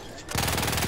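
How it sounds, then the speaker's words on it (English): Rapid automatic gunfire in Battlefield 1 bursts in suddenly and stays loud and dense for the rest of a brief moment. "There's people shooting me, buddy."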